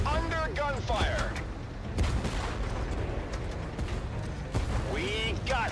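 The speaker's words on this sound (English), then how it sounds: "We are under gunfire." Booming cannon fire and explosions from a World War tank battle video game crack out at irregular intervals, mixed with shouted voices and whistling sounds.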